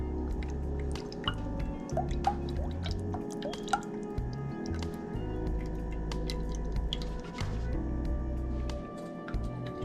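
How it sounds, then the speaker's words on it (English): Unsweetened organic coconut milk pours into a sauce in a pan, giving close liquid glugs, drips and soft squishy splashes over a steady low background rumble. "Next, you're gonna wanna add some unsweetened or unflavored organic coconut milk."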